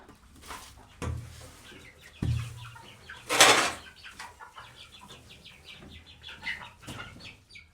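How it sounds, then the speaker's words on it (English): Chickens cluck and call in a close, busy coop, with a few sudden bursts of flapping wings and one loud squawk in the middle. "The chickens are quite flighty,"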